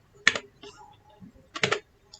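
Typing CSS code on a computer keyboard, two short bursts of quick clicking keystrokes close up with soft sounds in between and a faint tap at the end.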